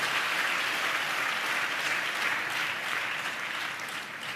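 Dense, steady clapping from a congregation during a church service, loud and continuous throughout with no talk over it.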